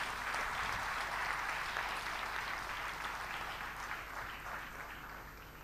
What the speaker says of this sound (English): So big, loud applause for you.